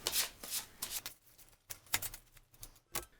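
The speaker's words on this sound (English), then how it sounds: "You can also just give these discovery cards a shuffle as well and put them somewhere nearby also." Discovery cards for the Cthulhu: Death May Die board game shuffled by hand in a quiet room, giving several quick crisp riffling bursts separated by short pauses.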